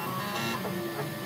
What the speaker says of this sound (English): move the platform or the head on your DaVinci